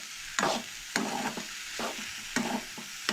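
A spoon scrapes and stirs tomato, onion and beans in a pan in a Goan home kitchen, with several distinct strokes at an uneven pace over a soft sizzle and no talk.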